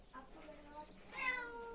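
A house cat meows twice in quick succession, close and fairly clear, in a home setting with no talk over it.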